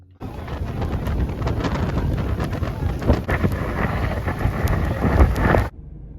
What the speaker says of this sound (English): Just had a lovely meeting in the rain. I love this weather.